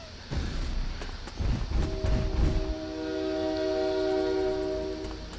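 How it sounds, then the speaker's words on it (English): A train passing close by in the morning, a loud rumbling roar with clattering bursts that gives way to a long sustained horn or whistle tone, steady and loud to the end. "Don't mind the train."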